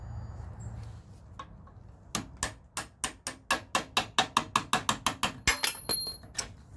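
A bolt being worked out of the rear track bar on a Jeep YJ with a ratchet, giving a fast run of about fifteen loud, close, evenly spaced clicks.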